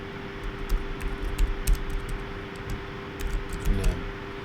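A computer keyboard is typed on during a Java full-stack coding session, irregular clusters of sharp key clicks with brief pauses, close and fairly loud, with no talk.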